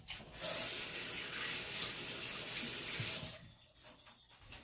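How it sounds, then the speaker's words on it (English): A kitchen tap runs for about three seconds as hands are wet before shaping hot water cornbread patties. The flow is a steady, fairly close splashing hiss, then it stops, leaving faint drips and handling noises. "Let me wet my hands."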